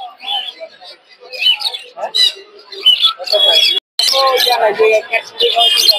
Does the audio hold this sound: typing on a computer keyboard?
no